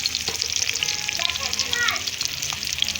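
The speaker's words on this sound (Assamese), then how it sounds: "মই এতিয়া পচলাখিনি ভাজিম। এইফালে পিঁয়াজখিনি দি দিলোঁ।" Onions frying in a pan over a bamboo-wood fire for an Assamese banana-pulp curry, a steady close sizzle with light crackles and occasional stirring scrapes, no talk.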